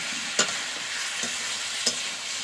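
Chicken and potatoes fry over a wood fire with a steady close sizzle. Three sharp scrapes of a spatula stirring the pan cut through it.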